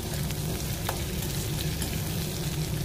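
Fried ginger, garlic, onion and slit green chilies stirred in a pan, a dense continuous sizzle with faint scraping, close and steady throughout.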